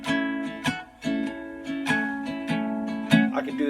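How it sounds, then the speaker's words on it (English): A guitar strums a blues progression in A with a loose shuffle rhythm, chords struck in short bursts and ringing out, moderately loud and close, no voices. "if I've got a blues progression that sounds like this"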